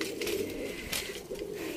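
A pigeon coos, a soft low throaty call repeated a couple of times close by, over faint background noise.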